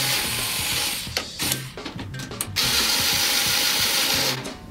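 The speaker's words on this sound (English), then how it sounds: "You just want to screw the threads in so you're not wasting time sitting there with the drum key, cranking it down like a fool" A drum key turns tension rods into the threads of a drum during a head change, giving loud, close metallic ratcheting clicks in rapid runs with brief pauses between turns.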